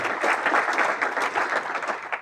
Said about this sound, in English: give yourselves a round of applause for a second